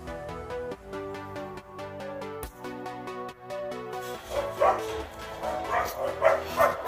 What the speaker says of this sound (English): my dogs are so freaking loud